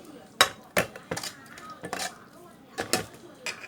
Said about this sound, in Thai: ผสมแล้วเข้าไป ปรุงแล้วเข้าไปเนาะ คนให้มันเข้ากันจ้ะ